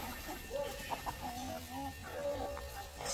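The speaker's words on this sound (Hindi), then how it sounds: "ये बड़ा वाला मुर्गा सब बच्चों को परेशान कर रहा है" A large rooster clucks a few short, soft calls over a steady background hiss, with faint sounds of other birds and chicks nearby.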